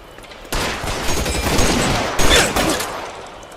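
Gunfire in the crime game L.A. Noire, two sharp bursts of shots, the first starting abruptly and rolling into sustained fire, then a second loud volley, close and with no talk over it.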